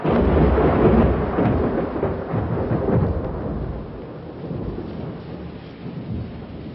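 Heavy rain falls while thunder rumbles low and rolling, the deep booms swelling near the start and slowly fading under a constant downpour hiss.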